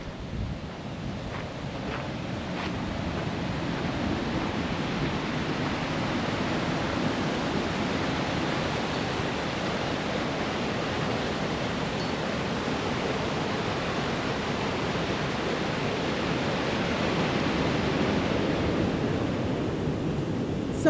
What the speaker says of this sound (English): Check this out. There's a little waterfall.